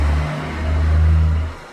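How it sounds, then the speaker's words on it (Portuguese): A truck rolls past on a nearby road, a steady low engine drone that swells and fades over a couple of seconds, with no talking. "passou um caminhão agora"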